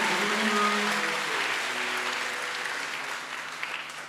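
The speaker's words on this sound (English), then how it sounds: "Clap for Jesus." Church congregation applauding for Jesus during a sermon, a dense sustained clapping from a large crowd that fills the whole stretch and slowly tapers near the end, with no talking over it.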